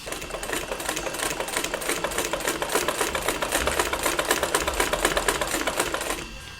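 Sewing machine stitching fabric for a gents suit kameez, a fast, steady mechanical chatter of needle strokes running continuously and close up, with no talking.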